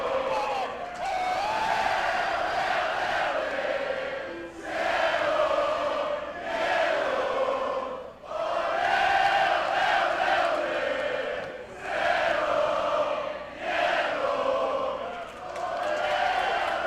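A pro wrestling arena crowd at a tag team match roars in repeated loud surges, swelling and dipping in waves, with commentators talking over the noise.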